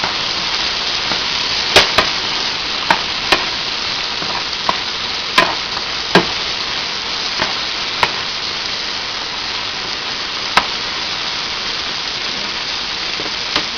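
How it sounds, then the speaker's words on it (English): Mushrooms frying in a pan, a steady close sizzle throughout with scattered sharp pops and crackles spaced irregularly, no voices. "The mushrooms look like they're cooking pretty good."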